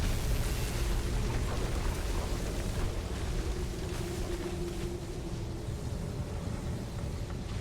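Storm in the survival driving game Pacific Drive: a steady, dense roar of rain and rumbling thunder fills the whole clip at even loudness, with a faint electrical hum running underneath and no talking.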